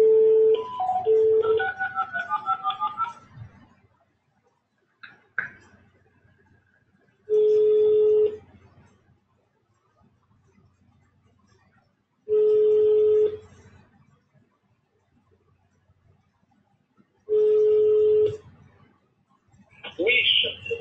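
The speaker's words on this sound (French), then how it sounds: "On l'appelle au téléphone?" Telephone call being placed: a burst of keypad dial tones, then a repeating ring-back tone sounding in evenly spaced pulses about five seconds apart, with a voice speaking at the start.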